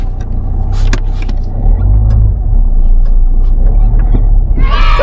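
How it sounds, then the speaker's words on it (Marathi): A motor vehicle drives steadily along a road, its engine and tyre rumble loud and close throughout, with knocks and rattles from the cabin and a brief whine near the end. "गाडी सावकाश चालव व्यवस्थित चालवायचं"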